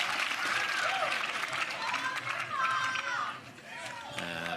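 A crowd at the Red Rock Open match breaks into lively applause and cheering, loud and close, with excited chatter and children's voices mixed through the clapping.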